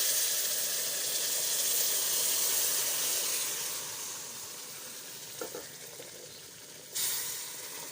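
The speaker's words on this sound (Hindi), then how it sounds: "अब ये जो शीरा है गुड़ का, ये हम इसके अंदर डालेंगे।" Jaggery syrup pours into semolina browning in a pan for halwa and sets off a loud, hissing sizzle with steam that slowly eases, followed by a couple of stirring knocks against the pan.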